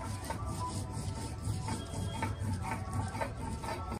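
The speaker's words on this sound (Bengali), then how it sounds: "আর লঙ্কা আর জিরাটা বেটে নিচ্ছি" Chili and cumin being ground into a spice paste on a grinding stone: close, steady rasping strokes of stone scraping over stone, repeating in an even rhythm with no voices.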